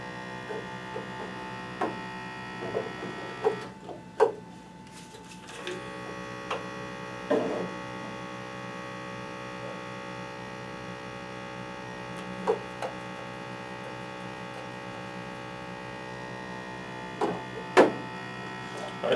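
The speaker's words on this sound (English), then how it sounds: "You hear that pump? That's your pressure pump." The pressure pump of an ink filling machine runs steadily as a close, even electric hum with a faint buzz, joined by scattered small clicks and taps.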